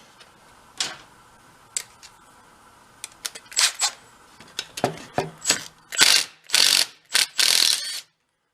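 A ratchet works a bolt loose on the engine of an early Honda 4x4 ATV, first in a few sparse clicks, then in quickening bursts of rapid ratcheting, close and clear with no talk.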